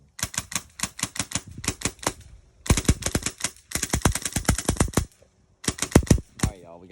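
An airsoft gun with a Eurotactics grip and a Polarstar regulator fires rapid bursts of sharp, close clicking shots. Several strings of shots are separated by short pauses, with no voices.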